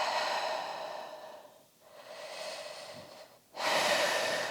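Slow, deep breathing during an early-labor prenatal workout, long soft airy inhales and exhales close to the mic, about three breaths with brief pauses between, no talking.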